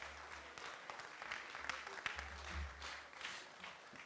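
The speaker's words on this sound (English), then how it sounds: "I think they deserve another round of applause" Guests at a 40th birthday celebration applauding a performing troupe, soft, fairly distant scattered clapping with low murmuring underneath.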